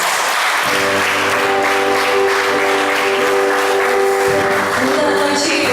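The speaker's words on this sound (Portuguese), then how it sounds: "Aplauda o Senhor mais uma vez." A church congregation at a Sunday family service claps together, a dense, loud wash of applause with steady sustained tones, likely keyboard or organ chords, ringing underneath throughout.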